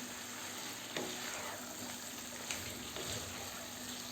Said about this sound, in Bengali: এভাবে এখন মাংসটা নেড়ে নেড়ে কষায় নিতে হবে যতক্ষণ না এর কালারটা চেঞ্জ হয়